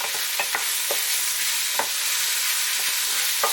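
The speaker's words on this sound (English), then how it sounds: "just keep it stirring so it doesn't stick to the bottom" Coq au vin stirred in a pot over low heat, a soft continuous sizzle with scattered scraping clinks of the spoon against the pot bottom.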